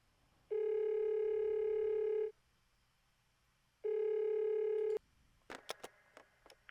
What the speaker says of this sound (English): got this ringtone effect and a phone pickup effect